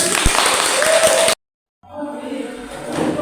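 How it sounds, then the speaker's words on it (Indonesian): A class applauds after a student presentation with a short burst of mixed clapping and crowd noise, which cuts off abruptly to silence before quieter room sound and murmuring resume. "tepuk tangan"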